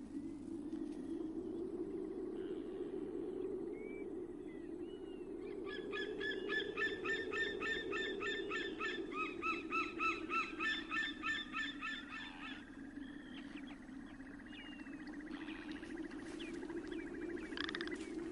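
Young sea eagles calling around a freshwater bathing pool, a run of repeated, overlapping high yelping calls in the middle of the stretch, with scattered single calls before and after over steady low rushing water.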